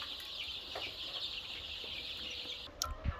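Crowd of two-week-old broiler chicks in a poultry house with no concrete floor, a dense continuous high cheeping chorus at moderate level, with a few brief knocks near the end.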